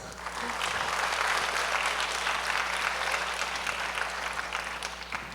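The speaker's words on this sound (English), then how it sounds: "Please give him a round of applause." An audience applauds Swami Ishwarananda at a community devotional presentation, sustained dense clapping from many hands over a low electrical hum, holding steady throughout.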